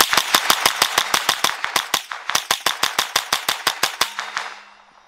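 Rapid gunfire from a firearm, a loud, close string of about two dozen evenly spaced sharp shots with a brief pause in the middle, ending in a fading echo.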